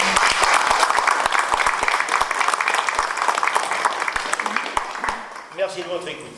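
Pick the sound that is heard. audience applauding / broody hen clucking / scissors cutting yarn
audience applauding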